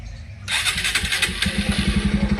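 A motorcycle engine cranks briefly, then catches and settles into a loud, close, steady idle with a rhythmic low thumping pulse.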